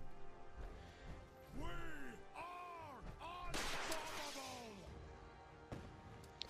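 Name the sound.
rockets being fired at the player in video game Fallout 4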